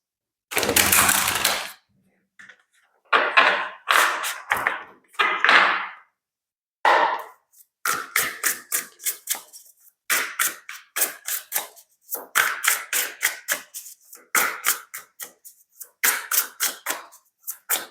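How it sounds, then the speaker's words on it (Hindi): Tarot cards being shuffled close by: after an opening burst, the cards give a run of quick, crisp riffling flutters and snaps in irregular bursts, growing into a steady rapid patter toward the end, with no talk over it. "let's shuffle up your cards first"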